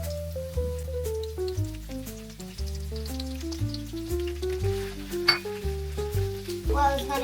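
Onions frying in a pan give a soft, steady sizzle and crackle, fairly quiet and mostly buried under prominent background music with a clear melody.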